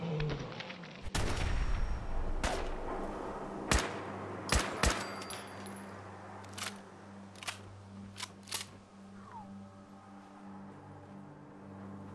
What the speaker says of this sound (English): Is that you shooting me?